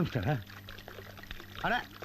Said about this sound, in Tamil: ஏய் பியரை கொண்டு போய் எதுக்கு அங்கே ஊற்றிட்டு